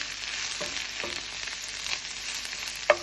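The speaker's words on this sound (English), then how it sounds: "There's the ginger and the garlic, and roll that around, mix it all in there." Ginger and garlic frying in a pan for a chicken, cabbage and basil stir-fry, a soft steady sizzle with a few faint stirring scrapes and one sharper clatter near the end, no voices.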